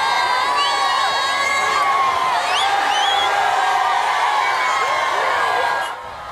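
A lively street crowd cheers and shouts with whoops and high voices as people wave along a roadside on the way to the Airways Hotel, a dense steady roar that holds loud before dropping away at the very end.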